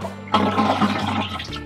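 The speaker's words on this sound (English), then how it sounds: "we flush the toilet a couple of times" A toilet is flushed to empty its tank, a loud close rush and gurgle of water that starts abruptly and keeps pouring steadily.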